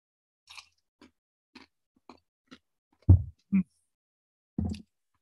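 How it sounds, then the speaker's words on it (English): Crunchy slushy ice being chewed close to the microphone, a handful of faint crisp clicks followed by three louder, deeper crunching bites separated by silence. "Crunchy ice. I love slushy ice."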